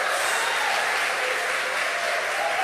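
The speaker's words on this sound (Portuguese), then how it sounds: "Os que têm essa mesma posição, aplaudam bem forte nessa noite." A church congregation applauds loudly in a dense, even wash of clapping that holds steady throughout without any speech.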